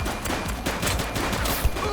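Sustained bursts of gunfire fill a shootout in The Precinct video game, with shots overlapping in a dense, continuous volley and a sharp louder crack near the end.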